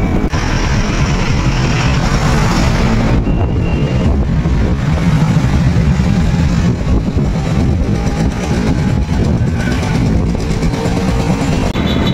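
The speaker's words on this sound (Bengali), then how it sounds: "আস্তে আস্তে বাইক চলছিল, বাইকের আওয়াজ পাওয়া গেল" A motorcycle rides slowly, its engine a loud, steady close drone with wind buffeting mixed in and no talk.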